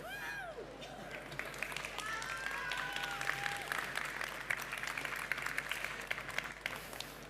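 A crowd at a pitch session at ChangeNOW 2023 claps continuously at moderate level, with a few brief whistles or tonal sweeps near the start and a faint voice underneath.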